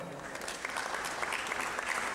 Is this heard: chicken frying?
no